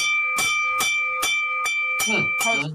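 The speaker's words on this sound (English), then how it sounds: "I had to ring the bell for you." A bell rings in six quick, even strikes, each a bright ringing tone over a steady sustained hum, close and fairly loud, with no talk.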